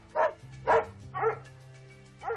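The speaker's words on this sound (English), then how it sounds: "his 3 dogs were out back, barking loudly" Three dogs barking loudly out behind a house in East Hampton, four sharp nearby barks in an uneven rhythm with a low steady hum beneath them.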